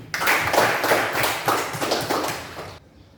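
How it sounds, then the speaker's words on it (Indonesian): Classroom hand clapping for a pupil in an Islamic religious education lesson, a short close burst of children clapping together that cuts off abruptly near the end. "Tepuk tangan untuk Wisnu."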